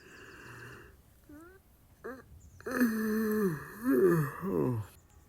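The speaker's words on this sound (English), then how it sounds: "A loud yawn left his mouth as he closed his eyes." A man's loud, drawn-out yawn on a quiet station platform rises and falls in long voiced sighs, performed by a narrator's voice after a few brief vocal sounds.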